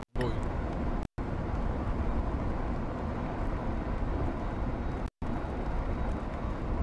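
Steady engine drone of a car in the Tiny House Simulator video game, a constant broadband rumble filling the whole stretch, briefly cut off twice, with no talk over it.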